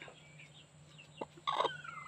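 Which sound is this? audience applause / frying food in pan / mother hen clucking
mother hen clucking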